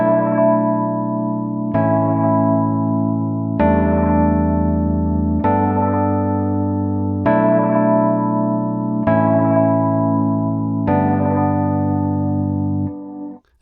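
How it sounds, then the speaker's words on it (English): A Rhodes electric piano runs through a reverse reverb with light chorus, playing a slow sequence of about seven sustained chords that swell and change every couple of seconds, loud and smeared with a washy, shimmering tail. "delayed reverb effect with a little bit of chorus on there as well"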